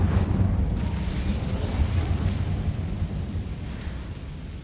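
The Bombarda explosion spell in the PS5 game Hogwarts Legacy detonates with a loud, deep rumbling blast that rolls on and slowly decays over several seconds, with no talk.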